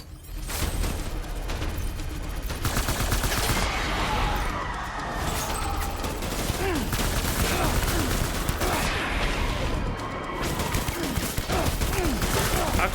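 Gunfire in the video game Death Stranding rattles in dense, continuous volleys, loud and close, under a steady wash of game noise with a voice talking over it.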